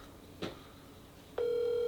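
A telephone call being placed: a short blip followed by a steady, continuous dial or ringback tone, quiet and close, with no talking.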